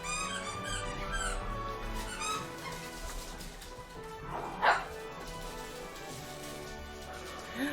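Dogs yip, whimper and let out squeaky barks indoors over a steady background hum, with a louder bark near the middle.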